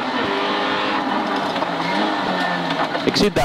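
A rally car races flat out on a closed stage road, its engine roaring loud and close under continuous in-car engine noise, while a co-driver calls pace notes over it.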